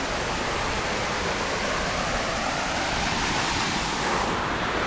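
A two-tier waterfall roars as a steady, dense wash of falling water, close and loud throughout, with no voices over it.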